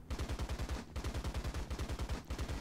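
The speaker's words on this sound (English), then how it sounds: "You've got one coaxial 30 caliber next to the 37. And then you have another 30 cal on the top" Early American tank machine guns in War Thunder, .30 caliber coaxial and roof mounted, fire in rapid sustained bursts with a quick, even rhythmic pounding, loud and close, briefly pausing between bursts.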